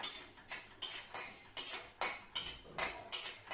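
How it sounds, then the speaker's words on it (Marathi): Spices roasting in an iron pan are stirred with a metal spoon, giving repeated sharp scraping clatters at a steady rhythm, close and fairly loud, with no talk. "आणि लोखंडाच्या कडेच भाजून घ्यायचे छान भाजून घ्यायचे"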